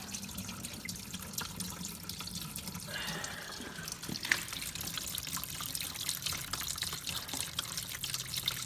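Hot engine oil from a John Deere Z665 zero-turn mower pours out of the drain in a steady, continuous trickle, heard up close over low background noise.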